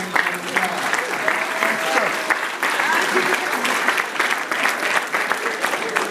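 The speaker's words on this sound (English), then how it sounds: "Give yourselves a round of applause" A packed South Los Angeles town hall audience applauds itself, a loud, continuous wash of clapping with a few voices and whoops mixed in throughout.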